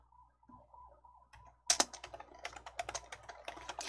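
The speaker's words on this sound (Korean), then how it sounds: "키보드 Alt-C 눌러주세요" Computer keyboard keys are pressed to enter an Alt-C shortcut during a word-processor lesson. After a quiet stretch with a faint low hum, a burst of close, crisp clicks and clatters runs to the end.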